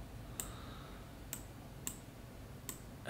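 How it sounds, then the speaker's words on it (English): A computer keyboard is slammed, giving four sharp, isolated clicks spaced about half a second to a second apart, faint and clear against quiet room noise. "Or just hearing me slam the keyboard."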